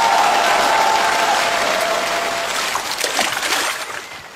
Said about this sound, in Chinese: 掌声不够激烈啊